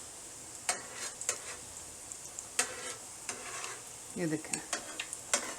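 Beef shami kebabs fry in a pan under a soft, steady sizzle, broken by scattered scrapes and clinks of a utensil turning them, while someone speaks briefly.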